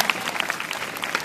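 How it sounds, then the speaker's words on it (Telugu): Audience applause in a hall during a Christmas message at IIIT RGUKT: a brief burst of many hands clapping, dense and fairly loud with scattered sharper claps. "క్లాప్స్ కొట్టండి."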